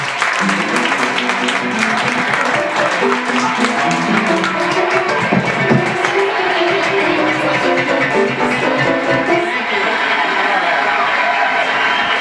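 An open mic audience in the Red Room at KGB claps and cheers loudly. Dense, sustained applause mixes with shouts and crowd noise for over ten seconds at a constant, full level.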